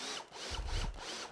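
Screws driven into metal brackets on a simple garage workbench with a power drill, two short close bursts of whirring drill noise with a brief pause between them.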